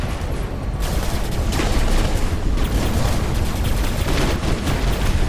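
Gunfire in the War Robots video game pours out in a loud, continuous barrage of rapid weapon shots and booming impacts, with no pause over the stretch.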